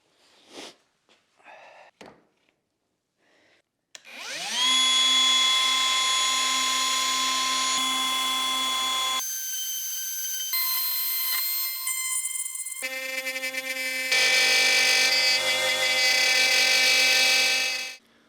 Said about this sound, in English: Then I hogged out the majority of the material with my plunge router.